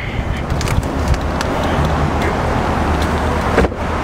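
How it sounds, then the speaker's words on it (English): A 2001 Chevrolet Corvette convertible driving down a street, giving a steady low engine and road rumble with wind noise that stays fairly even and close throughout. "So let's get back in and drive her back down the street."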